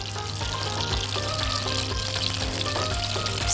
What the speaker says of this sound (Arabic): وتعالوا بينا ناخد اللحمة ونديها تشويحة حلوة في الطاسة